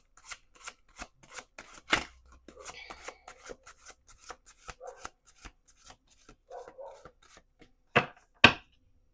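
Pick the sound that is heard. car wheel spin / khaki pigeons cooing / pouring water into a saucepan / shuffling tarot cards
shuffling tarot cards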